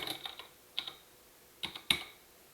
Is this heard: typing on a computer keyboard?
yes